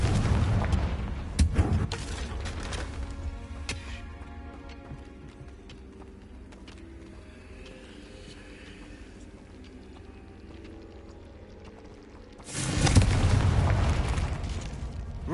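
Confringo spell explosions in the game Hogwarts Legacy: loud booming blasts near the start, a long quieter stretch of low rumbling ambience, then another heavy explosive burst near the end. No speech.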